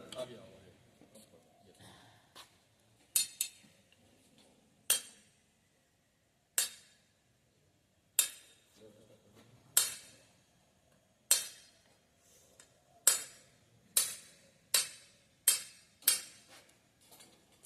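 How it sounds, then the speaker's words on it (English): Sharp metallic hammer blows on a rod ring out one at a time, quickening into a rapid series of short impacts near the end, with faint talk in the background. "simply hit the rod with hammer with a short impulsive blows"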